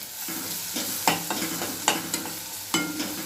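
Onions being fried and stirred in a pan for a bitter gourd dish, a spatula scraping in regular strokes over a continuous sizzle, close and clear, with no voices.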